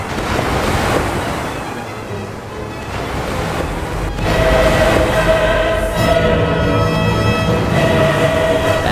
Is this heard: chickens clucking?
no